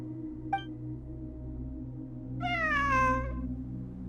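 A cat in the video game Genshin Impact gives one clear, drawn-out meow over a low, steady ambient hum, preceded by a brief faint chirp.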